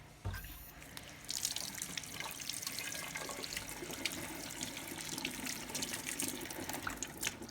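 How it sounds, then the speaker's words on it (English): Tap water runs steadily over a dissected pig organ being rinsed in a sink, a continuous close hiss and splatter after a brief opening thump, with no speech. "I'm going to rinse it off really quick for you so you can see this a little bit better."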